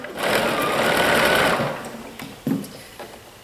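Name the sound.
sewing machine stitching a dart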